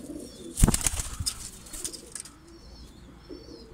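Pigeons coo softly in a loft while a sharp burst of wing flaps and scuffling rises near the start, then fades to a quieter background of cooing.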